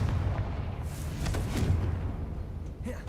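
A fiery blast spell goes off in Hogwarts Legacy, a short booming burst followed by rumbling crackle and debris, fairly loud against the game's background.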